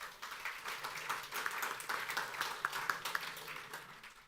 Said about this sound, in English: I was going to say something, but you can't after a clap.